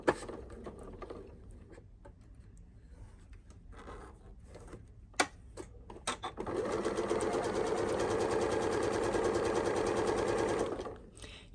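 A sewing machine stitches rows of shirring in fabric, first a few stop-start clicks and ticks, then a long steady close-up whirring run before stopping.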